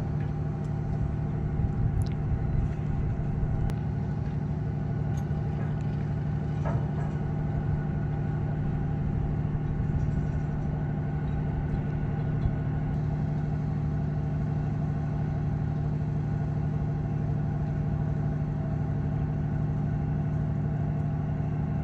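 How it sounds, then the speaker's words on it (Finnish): Cars idle and drive slowly onto a connecting ferry in the Turku archipelago, a steady low engine rumble holding at moderate distance throughout with faint clanks, and no voices. "Kyllä se tuossa nyt ihan lähtökunnossa on ja ne ottaa autoja nyt vasta sisään."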